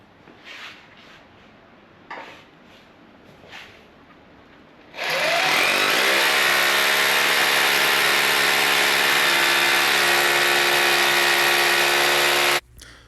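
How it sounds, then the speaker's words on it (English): A power drill bores into the floor while a 2-post car lift is installed, starting after a few quiet knocks and then whining loudly and continuously for about eight seconds before cutting off sharply. "As I drill this out"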